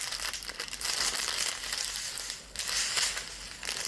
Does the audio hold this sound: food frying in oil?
no